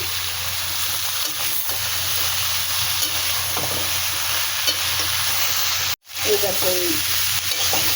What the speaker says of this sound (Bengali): সবজি মশলার সঙ্গে ভালো করে ভেজে নেব, ভেজে নিচ্ছি